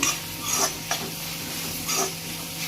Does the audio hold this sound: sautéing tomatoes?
yes